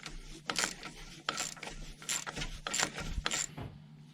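Socket ratchet working the caliper bolts on an Audi Q5 rear brake, with a spanner holding the nut: a run of close, sharp clicking bursts repeating in quick strokes, alone.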